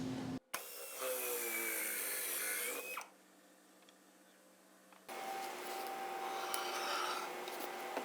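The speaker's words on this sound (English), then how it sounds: "And we can then cut all of those pocket holes." A pocket hole jig and drill bore into a wooden rail for a simple bookshelf. Two bursts of whirring drilling are loud and close, each a few seconds long, separated by a quieter low hum.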